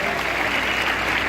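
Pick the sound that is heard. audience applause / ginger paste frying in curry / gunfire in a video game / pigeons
audience applause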